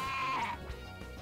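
Bashan, a pig-sheep Pokémon in the fan game Pokémon Uranium, gives a short, bleating electronic cry that starts with a bright tone and then tails off, followed by quieter game sounds.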